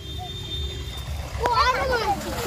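Children swim in village water, with a short splash under the lively chatter of kids and adults nearby.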